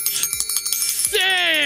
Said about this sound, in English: Let me say it again. This time with the bell.